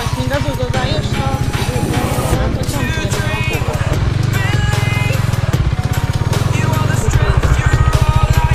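A loud, close motorcycle engine throbbing and revving with a rising pulse, with voices talking over the engine noise.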